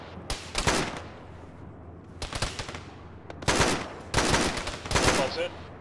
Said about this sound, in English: There's a friendly tank shooting down the main road at us.